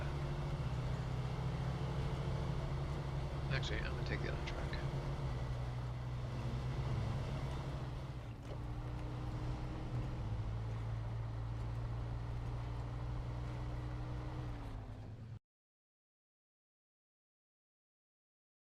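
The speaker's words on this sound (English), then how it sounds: "Yeah, the trucks are pretty loud." Heavy truck engines droning in the SnowRunner video game, a constant low rumble with shifting engine tones that runs loud and steady before cutting off abruptly, with someone speaking briefly over it.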